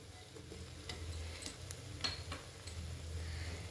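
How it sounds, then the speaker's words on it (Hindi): Onion, ginger and garlic fry in a pan for a rustic jackfruit curry as turmeric powder goes in; a faint, steady sizzle runs under a few light scraping stirs and small ticks. "अब इसमें हम मसाला को डाल देते हैं। 1/2 छोटा चम्मच हल्दी पाउडर,"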